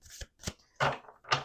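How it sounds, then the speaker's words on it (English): Tarot cards are shuffled in quick, papery riffling bursts, four short rustles in a row with brief gaps between them. "Last shuffle."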